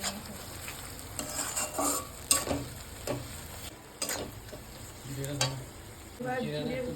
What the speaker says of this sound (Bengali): হলুদের গুঁড়ো লঙ্কার গুঁড়ো পাউডার একটু নেড়ে চেড়ে আদা বাটাটা দিয়ে দিল ওই নেড়ে চেড়ে